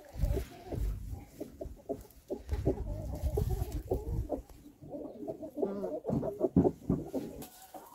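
Kuban laying hens cluck and murmur in a busy coop, a steady stream of overlapping soft clucks and throaty coos from several birds close by, without talk.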